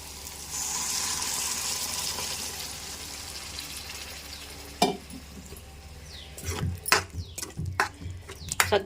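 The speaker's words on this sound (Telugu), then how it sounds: "ఇప్పుడు మనం దీంట్లో వాటర్ పోసేసుకుందాం" Eggplant curry frying in a pan gives a broad steady sizzle for several seconds, then settles quietly before a run of sharp stirring clatters and scrapes close by near the end.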